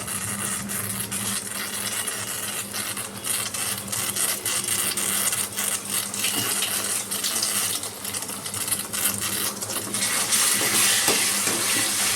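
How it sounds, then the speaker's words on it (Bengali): Ginger paste fries in a pan for a Bengali potol (parwal) curry, a steady loud sizzle under repeated scraping stirs from a spatula, growing slightly louder near the end, with no speech. "আমি একটু আদা বাটা দিয়ে দিচ্ছি এর মধ্যে।"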